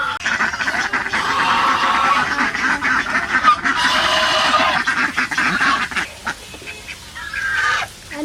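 Ducks quacking loudly and continuously nearby while being fed a mash of rice and bran, a dense overlapping chorus of calls with a brief lull near the end.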